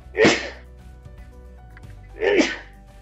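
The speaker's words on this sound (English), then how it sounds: "Excuse me, I'm going to sneeze." Two sharp sneezes about two seconds apart, close and loud, with quiet in between.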